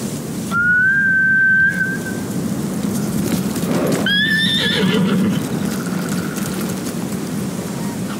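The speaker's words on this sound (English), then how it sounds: "Bastards scared off the horses." Samurai horses whinny in the Ghost of Tsushima video game: a whistle-like high tone, then a loud shrill neigh with trembling harmonics, over steady outdoor background noise with faint hoof and rain-like texture.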